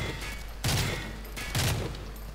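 Bursts of gunfire in Call of Duty: Modern Warfare 3 special ops, two loud volleys about a second apart over steady background game noise.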